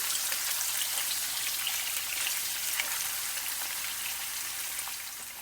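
Garlic and ginger browning in hot oil for soybean chilli give off a steady, dense crackling sizzle that holds close and even throughout, easing off slightly at the end, with no talking.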